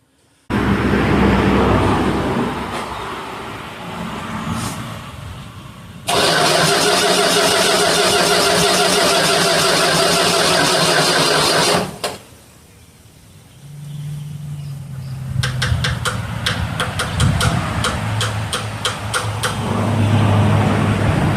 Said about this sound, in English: see if the 71 will start, 71 Barracuda will start